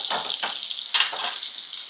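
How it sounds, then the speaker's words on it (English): Steak searing in a hot pan gives a steady, close sizzle, with a few brief stirring or basting bursts rising above the constant frying hiss. "Sear on one side like that."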